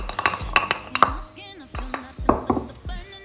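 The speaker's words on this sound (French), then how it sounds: "Une fois que nous avons fini de concasser les clous de girofle, nous allons mettre dans un bol" Crushed cloves tipped into a bowl for homemade clove oil, giving a string of close, sharp clinks and knocks of spice and utensil against the dish at an uneven pace.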